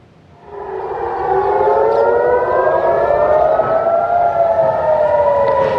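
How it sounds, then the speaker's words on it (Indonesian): A civil defense siren in Jerusalem rises from quiet into a loud, sustained wail, its layered tones sliding slowly in pitch as it holds steady without voices. "Sirene meraung saat Israel dan Iran saling serang untuk pertama kalinya sejak gencatan senjata."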